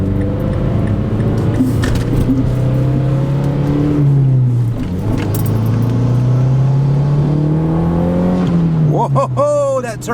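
Turbocharged Mazda Mazdaspeed3 accelerating on the road, its engine note droning and climbing through the revs, dipping around a gear change and then rising again, loud and close from inside the cabin.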